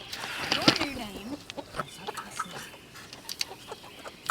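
Roosters cluck and squawk in short bursts, with one louder cry early on, amid rustling and faint background chatter.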